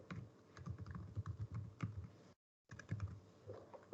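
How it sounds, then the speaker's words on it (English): Soft, quick keystrokes on a computer keyboard tap out a username in an irregular run, pausing briefly before more clicks resume, all quiet and close. "Here I will have to type my username."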